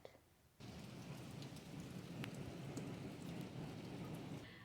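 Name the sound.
heavy pouring rain outside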